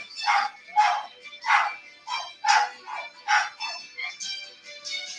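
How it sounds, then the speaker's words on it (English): Several dogs bark in quick succession at someone arriving home, sharp yips and barks in a steady rhythm of about a dozen bursts, fairly close and with no talk. "our four-legged children are barking her arrival"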